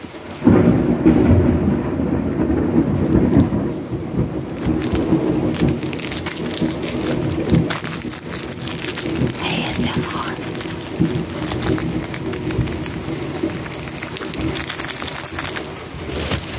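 A thunderstorm with heavy rain: a dense, steady hiss of rain on surfaces mixed with low rolling thunder that stays loud and close throughout.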